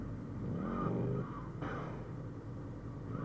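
A motorcycle engine in the video game GTA Liberty City, a short moderate revving drone that rises and then falls back to a steady running note. No one speaks over it.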